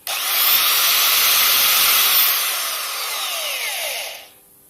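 Spinning abrasive tool at 6,000 RPM scouring rust off a seized pivot pin from a small JCB digger, a loud steady high-pitched whir and grind held for about four seconds before winding down.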